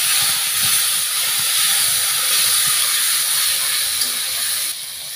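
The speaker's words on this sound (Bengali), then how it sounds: "পেঁয়াজ ভাজা হয়ে গেছে, এখন একটু আমি সামান্য পানি দিয়ে দিচ্ছি।" A splash of water poured onto frying onions bursts into a loud, steady steam hiss that runs on and then drops slightly at the end, up close and without speech.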